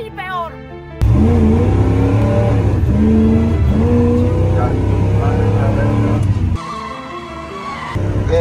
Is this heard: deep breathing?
no